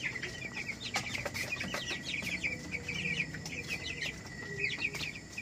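A brooder of Cobb 500 broiler chicks, about 18 days old, fills the air with dense, continuous high peeping and chirping, many birds overlapping at close range with no talking.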